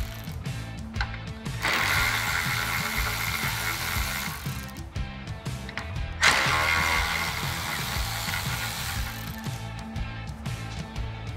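A ratchet with a 10 mm socket backs out the grille latch bolts on a 2000–2002 Toyota Tundra, clicking steadily and close throughout, with two louder surges of fast ratcheting.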